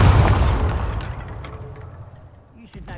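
A Bombarda spell blast in Hogwarts Legacy: one loud, close boom that opens the moment and decays into a long rumbling tail, with a faint light clatter near the end.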